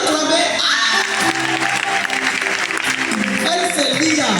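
An audience applauds and cheers steadily at a live performance, dense clapping sustained throughout with a sung or spoken voice carrying over it.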